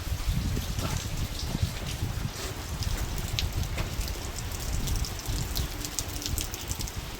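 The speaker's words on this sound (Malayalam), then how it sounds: "മഴ പെയ്യുണ്ട്" Steady rain falls on a construction site during masonry work on pillar boxes, a continuous close wash of drops spattering on hard surfaces, with occasional louder splashes and no talk.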